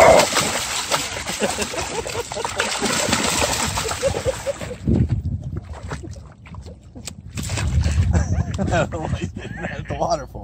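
Water splashes and sloshes repeatedly close by as a swimming dog paddles and strikes the water, with a voice speaking over part of it.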